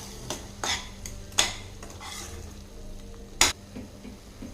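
A metal spoon stirs fried masala in a pan, giving a few sharp clinks and scrapes against the metal, close and distinct, over a low steady sizzle.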